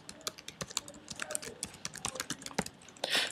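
Quick, light clicks of typing on a computer keyboard, an irregular patter of keystrokes close by and fairly quiet, ending in a slightly louder clatter.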